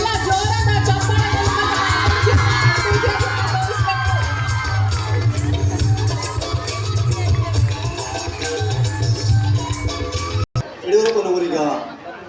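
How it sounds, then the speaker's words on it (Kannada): Students at a school annual day clap and cheer loudly, a sustained roar full of children's shouts and whoops, then a brief break before a voice speaks over the crowd. "ವಿದ್ಯಾರ್ಥಿಗಳೆಲ್ಲ ಜೋರಾದ ಚಪ್ಪಾಳೆ"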